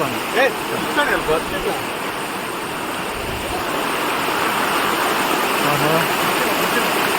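A steady, broad rush of falling water from Bandaje Falls, a waterfall near Belthangady, India, fills the scene, with a brief voice near the start.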